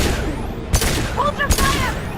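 Gunfire from the Mass Effect 2 video game: two sharp weapon blasts ring out about a second apart, loud and close, with a short echoing tail and a voice shouting briefly between them.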